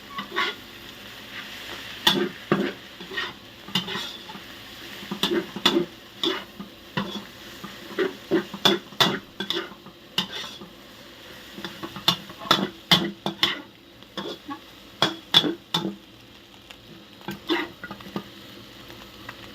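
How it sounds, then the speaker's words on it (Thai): Clumped scrambled egg is stir-fried in a little oil. A spatula clacks and scrapes against the pan in quick irregular bursts over a soft sizzle, loud and close throughout. "ต่อไปเราก็จะเอา ผัดผสมกันเลย"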